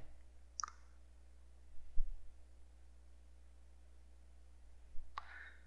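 A computer mouse clicks twice while someone works in phpMyAdmin: one faint, sharp click near the start and another several seconds later, with quiet room tone in between.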